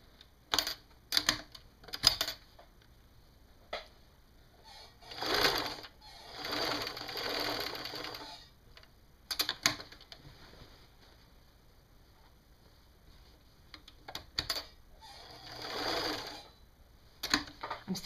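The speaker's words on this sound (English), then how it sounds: "We'll stitch down along here and then along our strap." A sewing machine stitching a fabric strap to the waistband of a wraparound skirt runs in repeated bursts: short rapid stitching runs, then longer whirring passes, with quiet pauses between them.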